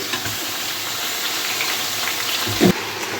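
Chicken going into a pan of golden fried onions, oil sizzling steadily with a brief louder splash and crackle as the pieces land, close and alone without talk.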